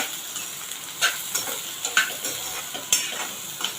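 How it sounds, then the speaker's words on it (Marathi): Onion sautéing in a pan for a bitter gourd stuffing masala, a steady sizzle with several sharp scrapes and stirs of a spatula at irregular intervals, close and alone with no talk. "आता हे चांगलं परतून घेऊया"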